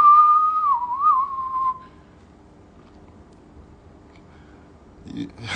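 A person whistles a short, clear tune lasting under two seconds, with a quick wavering dip in the middle, followed by near silence and a faint noise at the end.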